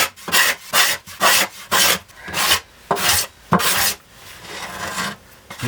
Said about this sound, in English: you can take your scraper blade and just go ahead and scrape these things